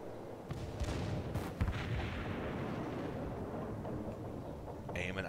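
Heavy naval gunfire from warships in World of Warships booms repeatedly with deep rumbling blasts over a continuous roar of battle, loud and close throughout.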